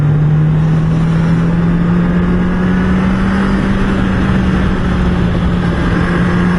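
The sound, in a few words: motorcycle riding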